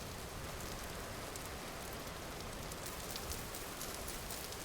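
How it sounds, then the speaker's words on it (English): Steady, even rain falling on a surface in the video game Vintage Story, a constant wash of hiss with no pauses or other sounds. "it is a rainy day"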